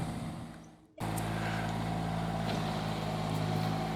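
A tractor maintaining a disc golf course starts up abruptly after a brief lull, then holds a steady, loud engine drone with a constant hum close by.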